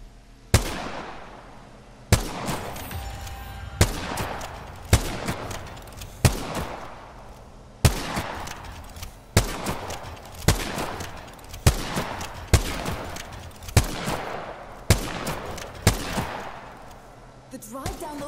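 Gunfire in the video game Apex Legends rings out as sharp, evenly spaced single shots, each followed by a ringing decay, repeating steadily for about eighteen seconds.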